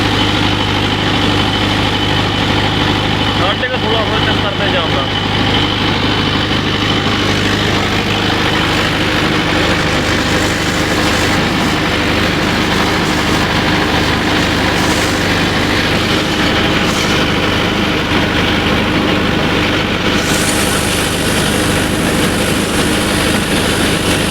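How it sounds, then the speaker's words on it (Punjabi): A running 585 tractor engine turning about 1650 rpm idles steadily and loudly up close, a continuous low diesel rumble with no break for the whole stretch. "ਦੇਖੋ ਵੀਰ ਜੀ ਚੱਲਦਾ ਟਰੈਕਟਰ"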